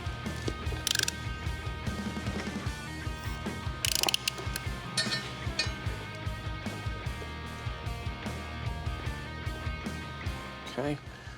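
Bolts being started by hand on a slammed C10 truck exhaust, a busy run of small ratcheting clicks and metallic clinks, close and fairly quiet, with sharper bursts near the start and middle.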